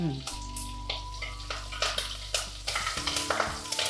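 Mustard seeds, fenugreek and cumin sizzle in hot oil, a close, steady frying hiss with sharp popping crackles that grow quicker and denser, alongside faint stirring clinks.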